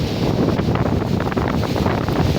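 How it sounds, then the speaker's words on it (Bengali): Strong wind blows outdoors in a village setting, a loud, continuous roaring rush buffeting the microphone with steady rumble and no pauses or voices. "প্রচুর বাতাস করছে প্রচুর।"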